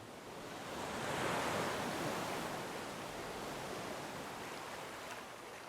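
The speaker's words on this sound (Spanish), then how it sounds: "Mientras tanto, el río seguía su cauce." The Guaviare river flows as a broad, soft rushing wash of water, swelling gently then settling into a steady hiss with no voices.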